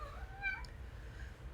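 A faint cat meow, brief and distant in the background of a quiet room.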